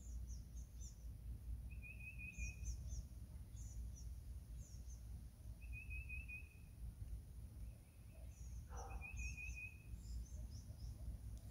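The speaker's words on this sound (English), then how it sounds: "Hear the birds singing?" Birds singing outdoors, a few short high chirping phrases repeating every few seconds, faint and distant over a steady low background hum.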